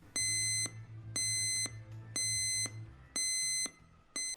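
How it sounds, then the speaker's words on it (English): A homemade resin 3D printer's control board buzzer sounds four sharp electronic beeps in an even rhythm, loud and close, with a low hum underneath. "It also has a buzzer to scream at me when I mess it up."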